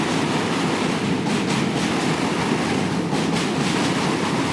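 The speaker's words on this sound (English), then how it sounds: "subway cars keep going by and shaking the bridge like this." A New York City subway train rumbles across a bridge, shaking it with a loud, continuous roar of wheels and rattling cars with faint rhythmic clatter, no voices.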